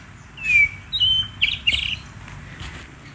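A white-rumped shama from Bangka sings a short series of clear whistled notes and chirps, fairly close and loud, with brief pauses between phrases.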